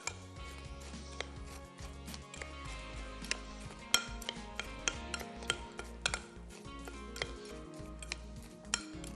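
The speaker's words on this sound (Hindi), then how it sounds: "ये गया बटर, इसको कर लेंगे मिक्स अच्छे से।" Butter is mixed into a dish of achari kofta and potatoes, with soft spoon scrapes and sharp metallic clinks against a pan at close range, irregular and quiet.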